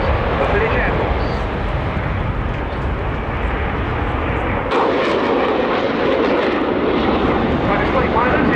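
A Finnish Air Force F/A-18C Hornet fighter jet roars loud and continuous during an airshow display, a dense broadband rumble that shifts in tone partway through, with an announcer's voice over it.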